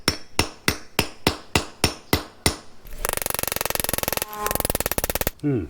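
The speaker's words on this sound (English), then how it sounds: "I'm going to use my bolster just to square them off." A hammer strikes a steel bolster chisel about ten times in even, sharp blows while squaring off drilled holes in a Thai workshop, followed by a dense rapid rasping burst and a final few knocks.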